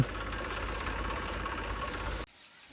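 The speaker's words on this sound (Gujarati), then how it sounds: "ખેતરમાં ટ્રેક્ટર આવી ગયો છે મિત્રો" A tractor engine runs in a farm field during loading of crop bundles, a steady close drone that cuts off abruptly after about two seconds, leaving quiet background.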